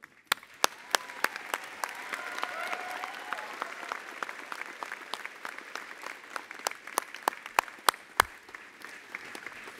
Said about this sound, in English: how about a round of applause for the faculty on stage?